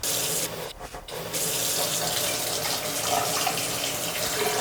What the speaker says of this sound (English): Then I'm going to let the water run.